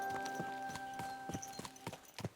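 Hooves clop on the ground in Kingdom Come: Deliverance II, a horse walking with a steady, irregular beat of soft thuds over a faint musical drone, fairly close, no talk.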